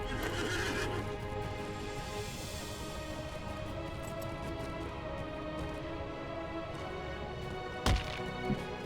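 In the game Lord of the Rings Online, a horse gives a loud whinny over steady hoofbeats, with a couple of sharp thumps near the end.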